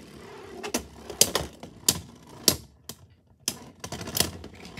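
Beyblade X tops Leonclaw and Unicornsting collide in a plastic stadium, producing a rapid series of sharp, close clacking hits with short gaps between them.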